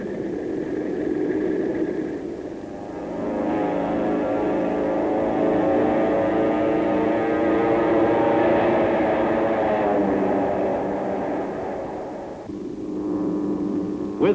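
B-29 Superfortress bombers fly with escorting P-51 Mustang fighters over Japan in World War II, their propeller engines making a continuous, heavy droning roar that swells and eases slightly across the stretch, with no talk.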